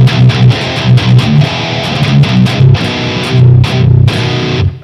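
Heavily distorted electric guitar through a Marshall 1960A cabinet loaded with G75 speakers, playing loud palm-muted chugs and rhythmic riff accents at close range, with no voices.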